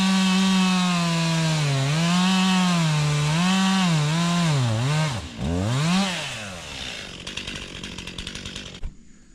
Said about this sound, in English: the saw I'm using is undersized, but the bigger saws, I couldn't get them started